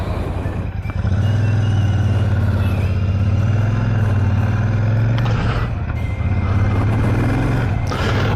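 A Royal Enfield Shotgun 650 motorcycle on the road gives a loud, steady, low engine drone with wind noise, pulling away and cruising as the revs rise and settle.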